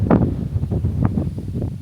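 Strong gusts on an extremely windy day at Spurn batter the microphone in heavy, uneven low rumbles and bursts, loud and close with no voices.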